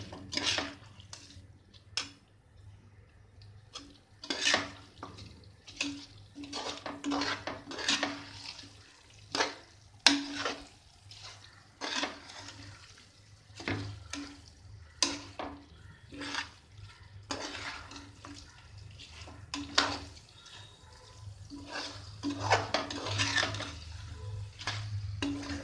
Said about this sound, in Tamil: ஊற வச்ச பாசுமதி ரைஸை இதை போட்டு ஜஸ்ட்டு ஒரு தட்டு பரட்டுங்க.